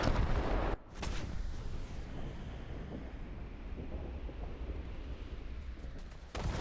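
Enemy gunfire in a tank video game featuring the M551 Sheridan: a loud booming blast at the start, a sustained rumbling wash of battle noise, and another heavy shot at the end, with no talk.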